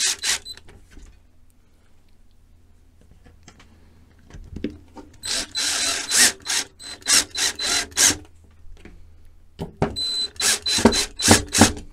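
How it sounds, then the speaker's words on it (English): Screws being driven into pilot holes to fit door hinges in a rear vehicle conversion, heard as bursts of rapid, rasping grinding that start after a quiet stretch and repeat in a close, loud, rhythmic series. "the screws should go nicely into those pilot holes"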